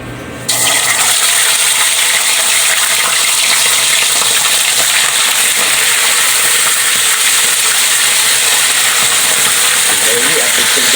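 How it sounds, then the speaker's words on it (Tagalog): Tulingan fish frying in hot oil in a home kitchen: a loud, steady, hissing sizzle that starts abruptly after a short silence and runs continuously. A faint voice comes in near the end. "Ipapride na natin yung tulingan natin para mamaya makahabab na tayo."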